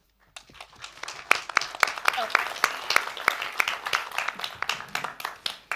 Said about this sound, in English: Really a warm applause for Yara